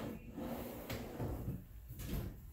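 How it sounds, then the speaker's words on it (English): Kitchen cabinetry in a two-bedroom home with soft-close drawers gives a few muffled thuds and soft slides, each drawer easing shut with a gentle close, in a quiet room with no talking. "Want to soft close drawers?"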